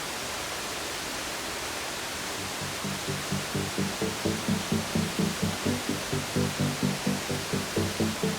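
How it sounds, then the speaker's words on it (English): A powerful waterfall in Munduk, Bali roars as a dense, steady wash of noise, joined after a few seconds by a loud rhythmic throbbing pulse that repeats regularly to the end. "But this is a spectacular and very powerful waterfall"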